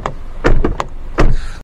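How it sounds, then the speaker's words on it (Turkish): Doors of a Citroen C3 Aircross are shut several times, each giving a solid, close thud at uneven intervals, with no voices. "Kapı seslerimiz bu şekilde."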